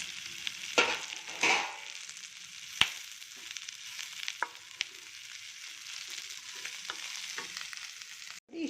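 Onion and grated coconut sauté in a pan with a soft, steady sizzle, broken by several sharp scrapes and clatters of a spatula, fairly quiet and close with no talk.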